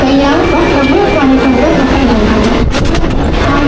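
A Mumbai local train rumbles and hums loudly at platform 2 of Chhatrapati Shivaji Maharaj Terminus, with a steady low drone and people talking over it.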